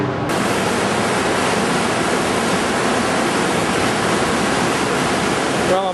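Rushing river rapids beneath a bridge give a steady, loud, broadband roar of churning water, continuous and close with no pauses.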